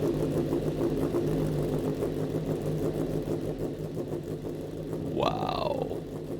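A PGM V8-powered motorcycle with dual exhaust, a steady low engine rumble throughout with a rising rev burst near the end, heard under faint background sound.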